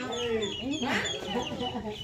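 Chickens and a rooster clucking close by in short, overlapping calls, with people talking over them.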